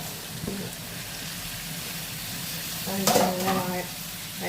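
Turmeric powder and tomatoes sautéing in a pan, a steady low sizzle with a burst of louder stirring and scraping toward the end.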